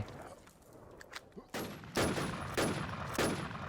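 Rapid gunfire from a weapon in a video game, a few loud broadband bursts of shots following a quieter stretch of background game noise, close and dominant.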